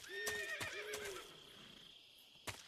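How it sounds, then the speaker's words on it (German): A horse in a video game, Epona from Zelda, whinnies with a high, wavering call, punctuated by sharp clicks and a brief knock near the end, faint and close. "Ah, da ist Epona. Aus Zelda. Das rote Pferd."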